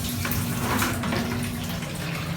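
Water pours from a tap into a nearly full bucket, a loud, steady, close splashing rush that continues without a break and without speech.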